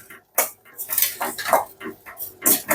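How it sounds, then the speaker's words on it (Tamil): A spoon scrapes and clinks against a pot as milk is stirred into vermicelli for custard kunafa, in irregular bursts of close metallic scraping with short pauses between. "இந்த பாலை வந்து இதோட ஊற்றி வச்சு கொஞ்சம் கிண்டி வைக்கணும்"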